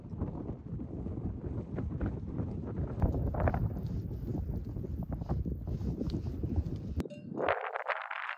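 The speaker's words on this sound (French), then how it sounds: "Je pense que vous entendez le vent." Strong wind buffets the microphone on a rugged Pyrenees mountain ridge near the French-Spanish border, a loud continuous low roar with gusting surges that drops off abruptly near the end.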